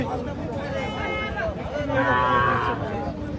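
Calf lowing at a busy cattle market, a few drawn-out moos rising over crowd babble and people talking nearby, with a longer, louder call toward the end.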